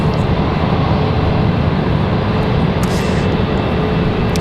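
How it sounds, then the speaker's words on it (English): An executive jet departs Raleigh Durham International Airport with a loud, continuous broadband engine roar that holds steady and close throughout. "Exec jet departing over here."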